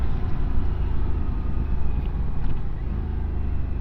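A tractor passes close to a moving motorcycle on the road, a heavy low engine rumble mixed with buffeting wind noise that stays loud and steady throughout.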